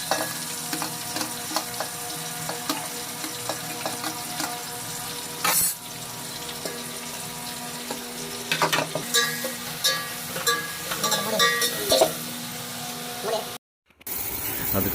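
Onions fry in hot oil with cinnamon and cloves for homemade chicken biryani, sizzling steadily with frequent clattering stirs of a spoon against the pan. Near the end there is a sharp brief cut to silence.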